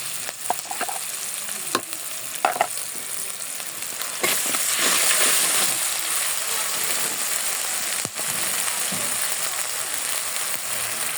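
A spice paste of ground cumin, garlic, onion and ginger with turmeric is stirred and fried in a pan, with scraping and clinks first, then a loud, steady sizzle that continues to the end.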